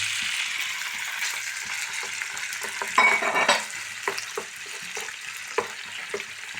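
Close, steady sizzling of food frying in oil in a pan, with scraping stirs and a louder burst of sizzle in the middle.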